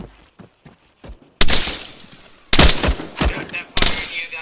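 Gunfire in a military shooter video game set in a factory: soft scattered pops at first, then several loud, close automatic bursts crackling in quick succession with brief pauses between.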